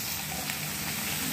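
Vegetables, papaya and drumstick stems for a Bengali fish curry, sizzle in hot oil in a pan, a steady, dense frying hiss with no pauses or voices.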